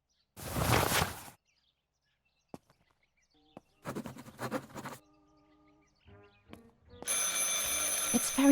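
A telephone rings in the video game Martha Is Dead, with short bursts of ringing separated by quiet gaps and a brief louder noise at the start.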